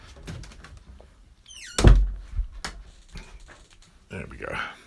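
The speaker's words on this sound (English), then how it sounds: "So I'm just going to go and shut my door again." An indoor door swings shut with one solid thunk, loud and close, accompanied by brief sliding and rattling sounds before and after, with a person speaking in the room.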